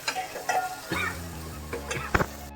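Tomatoes frying and being mashed in hot oil with garlic for Maharashtrian varan, soft intermittent sizzles with scraping stirs and spoon clinks against the pan, fairly quiet and close.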